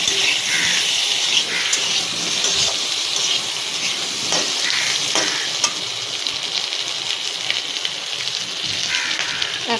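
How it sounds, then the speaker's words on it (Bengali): Potatoes and green chillies fry in a pan with a dense, continuous sizzle and hiss, steady and close, with scattered crackling pops. "আলুগুলো মোটামুটি ভাজা হয়ে গেছে।"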